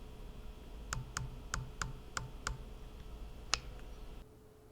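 Windage turret on a ZeroTech Trace Advanced RMG 4.5-27x rifle scope clicking in sub-zero cold: six crisp, evenly spaced clicks followed by one sharper click, close and quiet with no talk.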